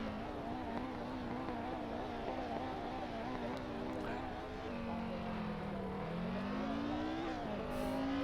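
A Skoda 130 RS racing car in the Assetto Corsa game runs with a loud, steady engine drone that rises and falls in pitch as it accelerates and shifts, unbroken throughout.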